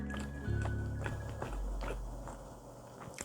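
Someone bites into a buttery cookie-like tart and chews it close to the microphone, with a soft crunch followed by steady moist chewing.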